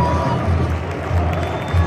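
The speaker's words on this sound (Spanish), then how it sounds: "Le aplauden a Cota" A stadium crowd at Estadio Akron applauds goalkeeper Cota after a Chivas vs León match, a dense, steady roar of clapping and crowd noise that fills the whole moment with no clear breaks.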